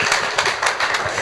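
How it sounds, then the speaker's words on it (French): Short burst of audience clapping at a presentation of an open innovation programme, fairly loud and close, with uneven individual claps rather than a dense roar. "On va l'applaudir."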